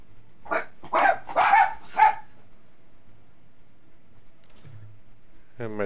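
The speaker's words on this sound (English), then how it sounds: "And my dog's just barking." A dog barking indoors: a burst of four quick, near barks, then quiet with a faint whine-like tone and a short rising sound at the end.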